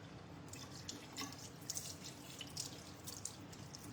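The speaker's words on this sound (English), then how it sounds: "I will wash my face with regular like makeup remover" A bathroom faucet runs steadily into a sink during a face wash at bedtime, a faint, even rush of water with soft splashes and drips, and no voices.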